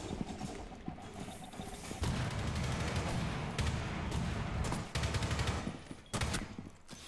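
Rapid automatic gunfire and dense battle noise during a Rainbow Six Siege match fill the scene continuously, with loud bursts and brief drops, over the clatter of mechanisms, and no talk on top.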